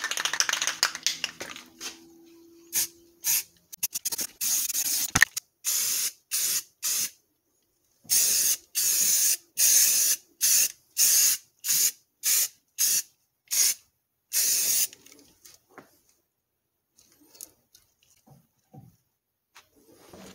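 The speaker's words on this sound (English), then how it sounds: "Then I put a coat of primer on this." An aerosol can sprays primer onto an old car body being fitted to a new floorpan. The hissing comes in a long series of short, evenly spaced close bursts, then stops, leaving faint shuffling handling noise.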